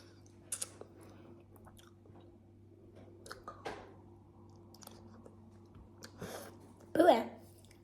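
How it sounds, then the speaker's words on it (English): Someone chews a strange packaged snack during a taste test, soft close mouth sounds and scattered clicks and crunches with a louder burst near the end, set against quiet background hum. "I'm gonna try to taste it."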